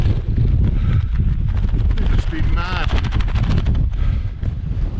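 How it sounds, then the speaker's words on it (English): Strong wind on an exposed hilltop on Caradoc buffets and roars across the microphone in heavy, continuous gusts while a person speaks briefly beneath the noise. "It's a little bit windy, so I expect you probably won't hear much of this."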